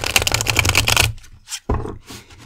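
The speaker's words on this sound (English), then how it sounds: "let's shuffle the cards." Oracle cards being shuffled up close, a rapid riffling flutter for about a second, then a few softer slides and a sharp tap as the deck settles.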